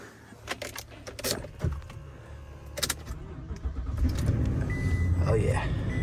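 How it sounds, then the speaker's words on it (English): A 2018 Toyota Sequoia Platinum's V8 engine cranks and catches, then settles into a low, rising rumble, preceded by clicks and rustles inside the cabin. "That sounds like the Toyota V8."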